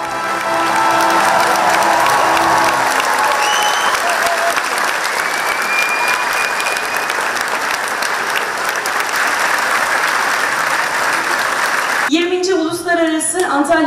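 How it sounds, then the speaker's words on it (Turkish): A standing audience gives pianist İdil Biret a long, sustained ovation after her festival concert in Alanya, dense even clapping that continues throughout, with a voice speaking over a microphone as it ends. "Seyirciler konser sonunda da İdil Biret'i dakikalarca ayakta alkışladı."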